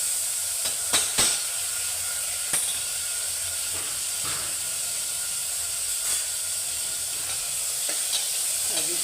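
Green mung beans sautéing in a pan with curry leaves and turmeric, producing a constant loud hiss and sizzle with a few sharp clinks and scrapes of stirring early on, close up and without speech.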